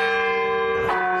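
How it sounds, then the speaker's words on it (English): Carillon bells ring from the bell tower of the Scottish Rite Cathedral in Indianapolis, sustained bright tones overlapping in a loud continuous wash, with a new strike entering near the end. "We all get to enjoy the sounds of the Carillon Bell Tower from far below the Scottish Rite Cathedral."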